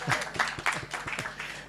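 Audience clapping at a Father's Day event, a fairly steady patter of hands at moderate distance for under two seconds, with no talk over it.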